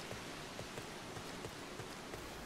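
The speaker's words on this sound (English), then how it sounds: "It's raining." Steady rain falling in the video game Final Fantasy XIV, a soft even hiss with faint scattered droplet taps, constant and fairly quiet, with no voices.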